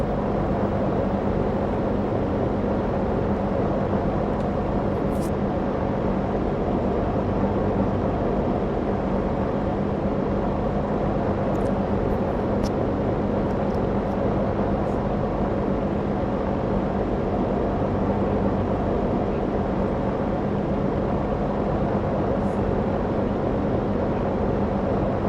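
A small airplane's engine runs as a loud, steady, unbroken drone throughout, heard up close from the cockpit, with no talk.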